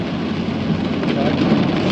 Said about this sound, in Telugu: చాలా చినుకులతోటి చాలా వర్షం ఉంది అసలు